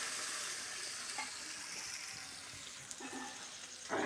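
Water poured into a pan of frying shing fish curry with banana, a steady watery hiss and sizzle running throughout at close range, with a louder splash near the end.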